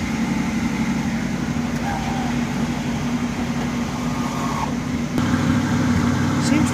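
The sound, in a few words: 1972 Oldsmobile Cutlass engine running, chugging tailpipe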